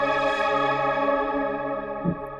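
An airy synth pad on a Nord Stage 2, its filter cutoff swept by a control pedal, sustains as a smooth tone with chorus-like shimmer and one brief low thump near the end.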